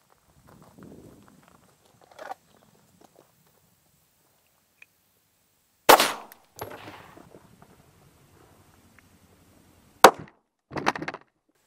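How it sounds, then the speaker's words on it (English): A 9mm handgun fires a standard 115-grain round into soft body armor. A sharp, loud full-range crack rings out after near silence and decays quickly, followed later by a second sharp impact. "we just took our shot on the body armor using a standard 9mm round, 115 grain"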